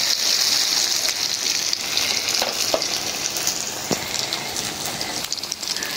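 Food fries over a low flame on a stove, giving a steady, close, bright sizzling hiss with occasional small pops and crackles. No one speaks.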